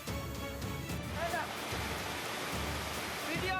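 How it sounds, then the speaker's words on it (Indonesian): Dense, steady roar of a hailstorm with marble-sized hailstones and heavy rain pounding down in Majalengka, Indonesia, constant and loud throughout with a broad hissing wash. "Hujan es yang disertai hujan deras dan angin kencang"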